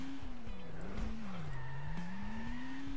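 Cartoonish car in the Turbo Dismount video game, a steady engine drone with a wavering pitch that dips and rises, continuous and fairly close, with no talk.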